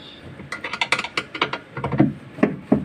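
Fan belt pulley tightened on an automatic washing machine, a quick run of close, loud ratcheting clicks and metallic knocks, irregular and bursty, with no one talking.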